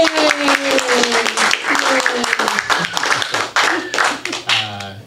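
Audience clapping and cheering at an open mic night in a gallery brew house, dense continuous applause for about five seconds with a few voices whooping over it.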